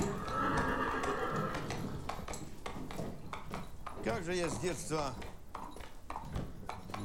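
A herd of horses whinnying repeatedly with clip-clopping hooves, the neighs rising and falling in the middle, mixed under someone talking and faint clinking of dishes.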